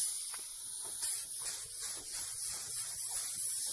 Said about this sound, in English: Prime part of the deck lid here before I get started.